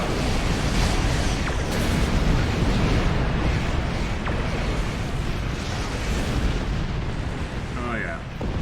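Torpedo spread explosions from a starship in Star Trek Online space combat. A dense, continuous rumble of overlapping blasts rolls on without pause, loud and close throughout.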